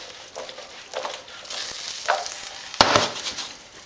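Wild barramundi and potato fry in a pan, a close, steady sizzle broken by scraping stirs and a sharper spatter of crackling partway through, with no voices.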